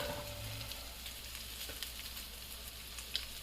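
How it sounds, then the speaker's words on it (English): Steady frying sizzle of shredded rotisserie chicken in a pan, a constant hiss and crackle with a few brief pops, close and fairly quiet, no voices. "And here, it's sizzling away as it's cooking."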